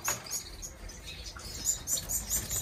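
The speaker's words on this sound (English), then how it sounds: "Today I got some new cages for breeding finches I'd like to show you" Finches in breeding cages flutter and flap their wings in quick repeated bursts, with faint chirps mixed in, close and fairly soft with no talking.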